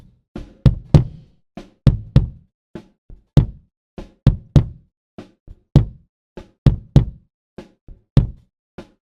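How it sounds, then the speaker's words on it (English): Thumping knocks pick up on a drum mic in a GarageBand mix, with a bass drum giving dry, punchy hits in an uneven rhythm. The hits vary in strength and land alone with no talk. "you can only kind of hear the bass drum"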